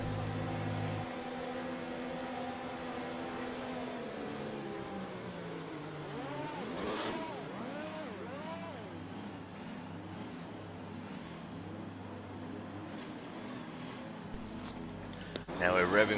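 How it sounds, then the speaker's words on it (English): F1 race car engines in a video game rev and whine under talk on the grid of the Australian Grand Prix, pitch sweeping up and down with rising tones, closing with a loud burst. "Now we're revving for the lights."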